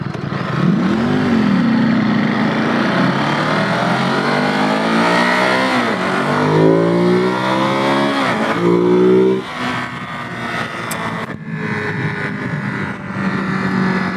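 Ducati Monster (2022) motorcycle engine revving hard through rising and falling pitch sweeps, loud and close, climbing to high revs before easing off.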